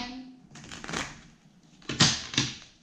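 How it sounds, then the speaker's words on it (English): Tarot cards being shuffled by hand: two quick rustling bursts, close and fairly quiet, with brief pauses between them. "Shuffle again."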